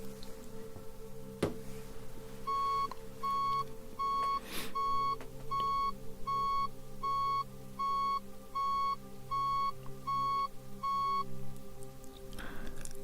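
A long run of short electronic beeps at an even, fairly quick pace, sounding over a constant low hum.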